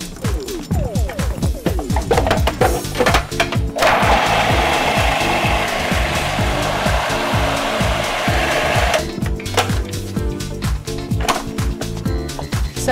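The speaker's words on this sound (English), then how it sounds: "the stalk can go into the food processor" A food processor whizzes chilli stalks and chickpeas into a paste, loud and steady, with a dense whirring stretch in the middle and choppier blade rattle before and after.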